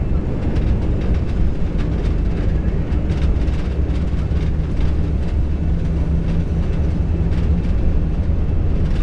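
A heavy Saudia Airlines jet airliner on its takeoff roll at Jeddah, Saudi Arabia, gives a loud, continuous engine roar with deep low rumble that holds steady throughout, with no speech.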